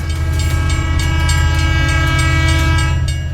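The Sabarmati Express, running from Varanasi to Ahmedabad on the Kanpur–Jhansi line, rolls past close and loud with a steady rumble, rhythmic wheel clatter and a sustained horn blaring throughout.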